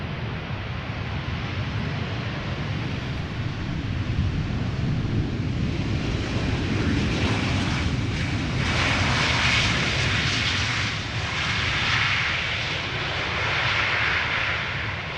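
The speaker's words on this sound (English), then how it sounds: "Finnair arriving from Helsinki." A Finnair airliner from Helsinki comes in to land at Amsterdam Schiphol, its jet engines a continuous roaring rumble heard from a distance that swells and fades gently as it passes, with a breezy wash beneath.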